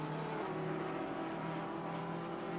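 A BMW GT3 race car in a sim racing endurance event, its engine a steady, fairly faint drone heard alone.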